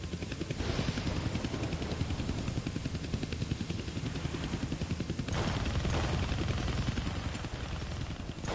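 Helicopter in the Deadpool video game, a loud continuous rotor chop with dense rhythmic thumping that fills the whole clip, with a short swell partway through.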